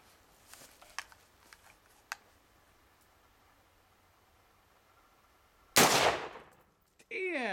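A rifle fires a single loud, sharp .223 full metal jacket round near the end, after faint clicks and handling noises, followed by a brief tonal ringing.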